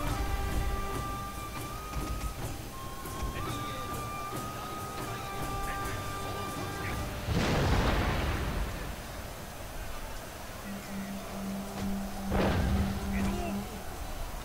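Artillery volleys fire in the Total War Shogun 2 battle game, two big booming blasts several seconds apart set against a busy background of battle noise and game tones.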